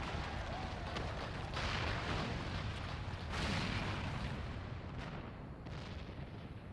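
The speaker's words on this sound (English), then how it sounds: "It must have been the cannon at Castrum Albania." A massive cannon blast and a collapsing tower in Final Fantasy XIV, a sustained roaring rumble with heavy booms and crumbling debris that swells and then slowly fades.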